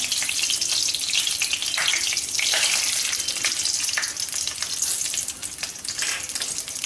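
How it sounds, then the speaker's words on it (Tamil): Mustard seeds and black urad dal sizzle in hot oil for tempering, a continuous close frying hiss with small pops and crackles and no talking. "தாளிக்கிறதுக்கு வந்து கடுகும் உளுந்தம்பருப்பும் எடுத்துருக்கேன்"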